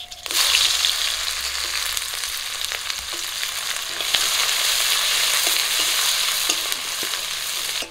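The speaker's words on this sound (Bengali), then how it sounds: "পেঁয়াজ আর কাঁচা লঙ্কা লাল লাল করে ভেজে নিয়েছি।" Chopped onion and slit green chillies frying in leftover fish-frying oil with cumin seeds and bay leaves, a close, continuous sizzle with light stirring scrapes throughout.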